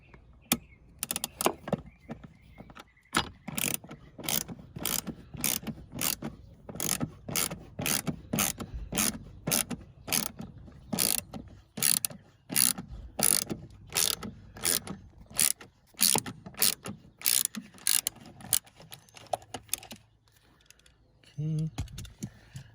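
A hand ratchet with an extension works loose a 12 mm nut on a 2007-2011 Toyota Camry during rear strut replacement, giving a long run of rapid, crisp clicks in bursts, close up, ending in a quieter stretch.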